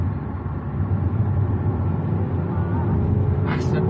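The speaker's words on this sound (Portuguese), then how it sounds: "motor aspirado, motor forte é bonito demais, cara. Barulho é bonito." A naturally aspirated car engine runs as a strong, steady low drone from inside the car, with a sharp burst of higher noise near the end.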